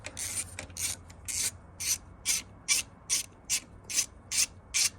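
A starter motor being removed from a 1983 Harley-Davidson FLHT, heard as a steady run of about a dozen sharp metallic ratcheting bursts at an even rhythm, close and fairly quiet, with no talking.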